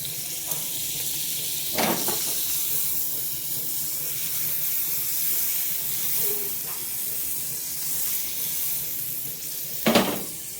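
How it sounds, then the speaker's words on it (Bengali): Halved pav buns toast in butter in a hot pan, giving a soft, steady sizzle that runs evenly throughout, broken by a couple of short clatters from utensils. "চলো এবার পাউগুলোকে সেঁকে নিই আমি এখানে পাউগুলোকে মাঝখান থেকে একটা পিস করে নিয়েছি এবার জাস্ট এতে বাটার দেবো"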